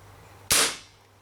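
A single sharp crack from an Umarex Marlin revolver firing a BB, loud and close, with a quick decay into quiet.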